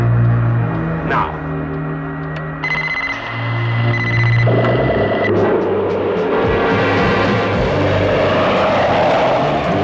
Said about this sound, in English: Their plane is supersonic.